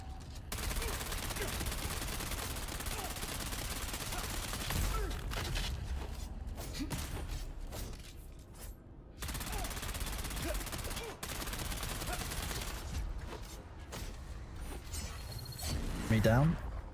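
Gunfire in the Dune video game: sustained rapid bursts and fusillades of shots running almost without a break, with short gaps, a few mechanical clicks near the end and occasional talk underneath.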